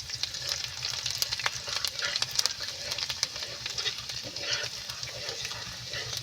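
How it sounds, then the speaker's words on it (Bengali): Garlic and spices sizzle and fry steadily in a pan for a Bengali rohu fish and Malabar spinach curry, with soft stirring scrapes and crackles throughout and no talking. "রসুনটা লাল লাল হওয়া পর্যন্ত আমি এখন এইভাবে নাড়তে থাকবো।"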